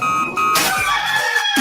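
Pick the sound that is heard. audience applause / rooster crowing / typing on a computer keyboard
rooster crowing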